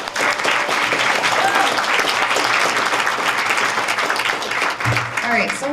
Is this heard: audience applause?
yes